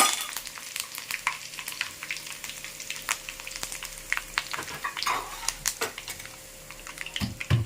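Curry leaves and dried chillies sizzling in hot oil for a drumstick pickle, a steady close crackle with sharp pops and spits scattered throughout.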